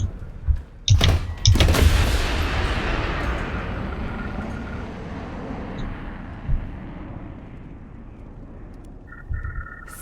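Anti-tank gun firing in the War Thunder video game, a sharp loud boom followed by a long rolling decay that fades over several seconds, with a fainter thump later.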